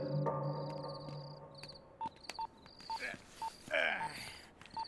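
Telephone keypad dialing tones: a series of short, evenly spaced electronic beeps at moderate level, heard alone in a quiet room after a brief ringing tone at the start.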